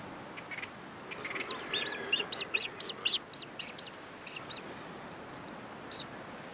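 A flock of viudinas, dark seabirds along the protected Brazilian coast, gives a series of high, nasal, honking calls in quick bursts that trail off into scattered single cries over a soft background hiss.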